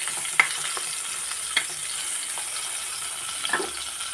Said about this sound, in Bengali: বেগুনটা আগে ভেজে নেব, তারপর রসা করব।